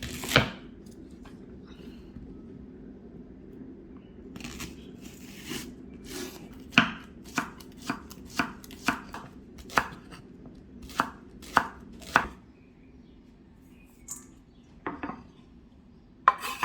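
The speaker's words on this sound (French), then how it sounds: "je vais émincer les poireaux" A knife chops leeks on a cutting board, the blade striking the board in a series of sharp, close knocks. The strikes come irregularly at first and then in a quicker run, with a low steady hum beneath and no talk.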